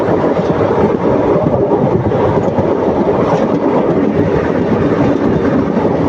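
An express train between Palani and Pollachi runs at speed, giving a steady, loud rumbling roar with continuous low clatter and no pauses throughout.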